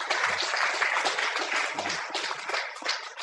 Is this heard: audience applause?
yes